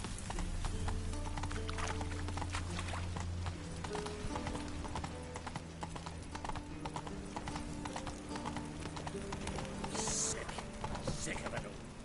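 Galloping horse hooves in a PS4 video game, a steady loud clip-clop with occasional whinnies over a continuous game soundtrack, with a voice briefly spoken.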